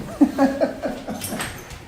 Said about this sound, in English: Those dogs in the background? Those are my puppy dogs.